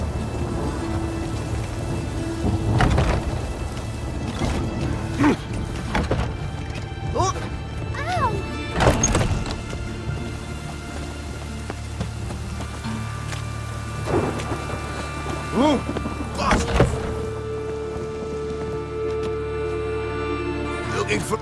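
Steady rain with repeated rumbling thunder claps in The Witcher 3, a continuous wet hiss broken by several loud booms, with horse hooves and spoken game dialogue heard over the storm.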